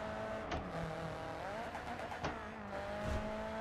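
Racing-car engine in the Grid 2 video game, whining steadily with harmonic tones that rise and fall as it revs hard, cut by two brief sharp clicks of gear changes, loud and close with no talk.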